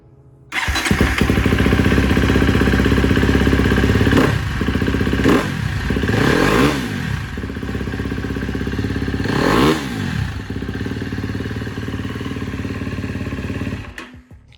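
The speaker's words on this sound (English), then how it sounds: "I'll show you it running" A KTM 250 SX-F dirt bike, freshly fitted with a new timing chain tensioner, fires up and runs loud and close. Several sharp throttle blips rise above a steady rough idle, then it cuts off. No one speaks.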